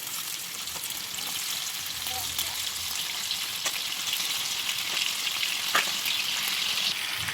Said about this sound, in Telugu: ఇప్పుడు సెకండ్ రౌండ్ ఫ్రై చేయడం స్టార్ట్ చేద్దాం.